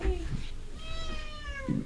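A cat meows a couple of times at close range, the drawn-out calls rising and falling over a quiet indoor background.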